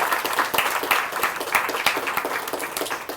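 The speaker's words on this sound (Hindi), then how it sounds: "तो ऐसे श्रोता है तो एक बार जोरदार तालियां आपके लिए होनी चाहिए।" An audience at an Indian cultural event gives a short burst of applause, with close, distinct claps in a lively, uneven rhythm.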